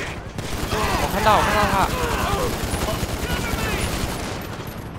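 Police open fire in GTA V as rapid bursts of game gunfire crackle through the scene, with a player talking over the shots.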